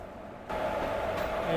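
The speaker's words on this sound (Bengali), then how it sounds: "আমাদের ট্রেনটা পাঁচ নম্বর প্ল্যাটফর্ম থেকে রাইট টাইমেই ছেড়ে দিল" A Sealdah–Dankuni local train pulls away from platform five: a quiet start, then a sudden swell of steady, close rumbling and rolling noise about a third of the way in that holds loud to the end.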